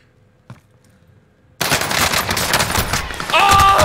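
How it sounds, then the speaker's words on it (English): Automatic gunfire in the online shooter Warzone, loud, dense bursts that begin suddenly after a near-silent stretch with a faint click, and keep going steadily to the end. "They just missed shots and got killed by Scrip, who I believe has a riot shield on"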